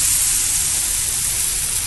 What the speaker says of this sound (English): Bam, hot pan.